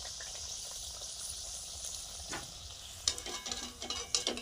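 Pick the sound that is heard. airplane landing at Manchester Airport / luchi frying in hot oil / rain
luchi frying in hot oil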